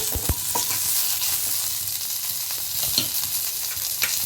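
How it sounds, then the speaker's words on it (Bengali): Curry leaves and black mustard seeds stirred in hot oil for instant masala idli, a busy crackling sizzle with scattered spoon scrapes and pops, close and fairly loud, no speech. "আর দিয়ে দেব কিছু কারি পাতা। ভালো করে নাড়াচাড়া করে"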